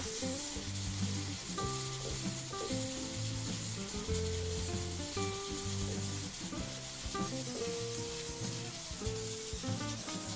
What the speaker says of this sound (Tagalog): Lagay na po natin yung ating sibuyas.